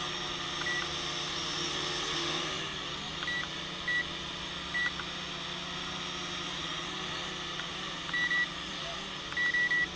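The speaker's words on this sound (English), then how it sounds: "So 1 beep is the slowest, which is this setting here." A few short electronic beeps sound at intervals over a low steady hum and faint background voice, some beeps single and some in quick pairs, from a JJRC JD20 quadcopter remote controller setting flight speed.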